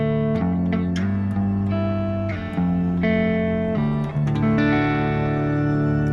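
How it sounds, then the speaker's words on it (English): An electric guitar played through a BOSS GT-1000 Core with a shimmer reverb effect sounds sustained, ringing notes and chords that change every second or so, with a bright, washing tail and no talking. "shimmer reverb."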